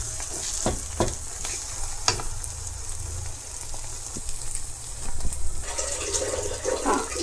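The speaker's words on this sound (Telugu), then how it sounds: "ఇప్పుడు రొయ్యలు వేసేసాను." Prawns sizzle and fry in a pan with onions and gongura leaves, with a steady crackling hiss, occasional stirring scrapes and clinks, and a louder burst of sizzling near the end.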